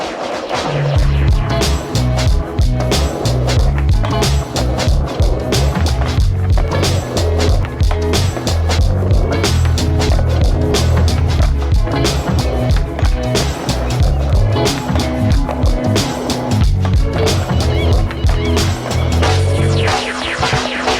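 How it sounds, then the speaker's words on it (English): Skateboard with new trucks grinding a rail: loud, continuous scraping of metal trucks on metal, with wheel roll and repeated board clacks and landings, near and steady throughout with no talk. "So I'm gonna just do a bunch of different grind tricks on this rail right here"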